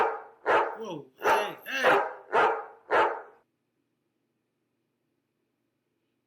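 A huge St. Bernard barks at a delivery driver: five loud, deep barks in quick succession over about three seconds, then silence, with a man's startled exclamations mixed in.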